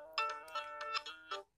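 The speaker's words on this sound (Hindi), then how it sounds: "तो मैं डिफ़ॉल्ट रिंगटोन रख देता हूँ" A phone's default ringtone chosen as an alarm sound plays a bright melodic chime pattern of several quick notes, clear and alone, ending abruptly.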